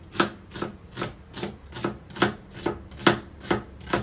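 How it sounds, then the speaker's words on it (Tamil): A knife slices an onion on a cutting board, producing about nine steady, evenly spaced chopping strokes that sound close and moderately loud, with no voices. "ஆனியன் வெட்டி வச்சுக்கணும்."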